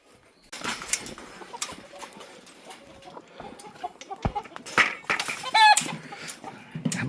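Chickens in a farm coop at feeding time give scattered clucks and short calls over a quiet background, mixed with rustling and footsteps, fairly close by.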